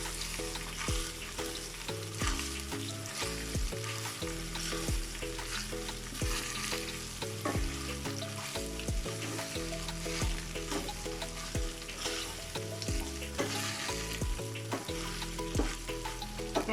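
Chickpeas and jeera rice being stirred in a hot pan, a continuous soft sizzle and fry with repeated scraping strokes of the spoon against the pan, close and steady throughout, with no talking.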